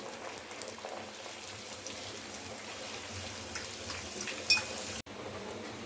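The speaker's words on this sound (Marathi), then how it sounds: "इथे मी कढई ठेवलेली आहे. तेलामध्ये बटोरा टाकलेला आहे" Bhatura frying in hot oil in a kadai gives a steady bubbling sizzle with light crackles, close and continuous, cut off abruptly near the end.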